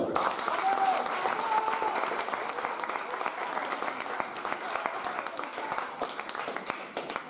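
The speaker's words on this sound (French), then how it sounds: "On applaudit Jean-Paul" Audience applause at the Miss Beauté Franche-Comté 2019 pageant evening, a steady, dense clapping from a sizeable crowd lasting throughout, with a few brief voices and faint whistle-like tones mixed in.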